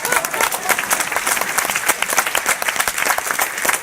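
Audience applause fills the room, steady and dense, with many hands clapping together for a few seconds and a voice faintly under it.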